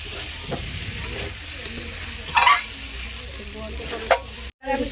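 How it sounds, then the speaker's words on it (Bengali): Potatoes sizzle loudly in a hot pan as spiced water goes in, a steady hiss with a sharp louder burst midway, scraping stirs and a brief dropout near the end. "এবার আমি জল দেবো।"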